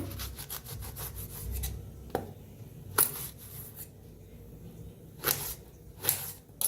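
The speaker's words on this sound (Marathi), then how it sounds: "आता वांग बी कापून घेऊया" Knife strokes slicing through eggplant on a board, a few sharp cuts spaced apart with quieter rubbing between them, close by.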